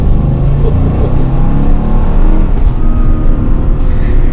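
A 475 hp Mercedes AMG engine roars loud and steady, a deep rumbling growl held close up throughout with no talking.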